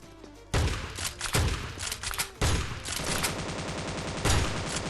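Shotgun fire in the video game Scarfall 2.0 comes as heavy, booming blasts in quick succession, loud and close, with continuous dense gunfire and game noise between the shots.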